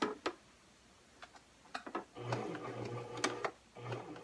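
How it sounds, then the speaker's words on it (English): Sewing machine running a stitch along a tote bag pocket, faint scattered ticks and clicks followed by short bursts of steady humming stitching, quiet and close with no voices. "We're going to give this a double line of stitching."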